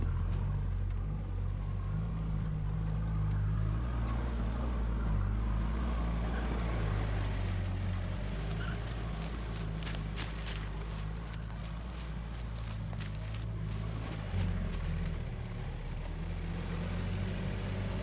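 A four-wheel drive vehicle climbing a tree root step on an off-road track at Tallarook, its engine giving a steady low rumble throughout with slight rises in effort and faint scrapes and knocks.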